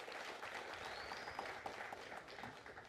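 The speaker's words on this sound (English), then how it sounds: "Can we give her a round of applause?" Audience applause fills a speech event, a steady wash of clapping from a crowd that runs loud and continuous throughout with no voices over it.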